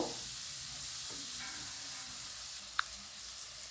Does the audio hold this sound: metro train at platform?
no